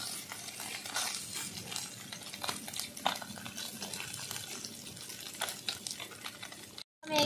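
Fresh mourala fish frying in a pan, a soft continuous sizzle with scattered crackles and light spoon scrapes, faint throughout and cut by a brief silence near the end.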